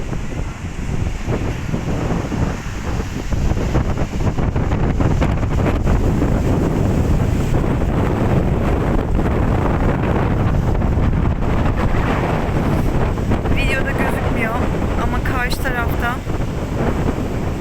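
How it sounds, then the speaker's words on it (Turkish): Strong wind buffets the microphone in a constant roar at a beach in Çeşme Ilıca, with surf and water sounds beneath it and faint voices drifting in and out. "Şemsiye zor duruyor bu rüzgarda."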